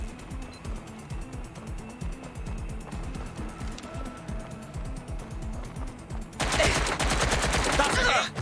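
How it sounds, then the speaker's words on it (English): Rapid mechanical gunfire rattles in Watch Dogs: Legion, a steady fast clatter of automatic shots that swells into a louder, denser burst near the end. "Suspect has opened fire."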